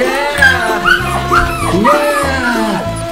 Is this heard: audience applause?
no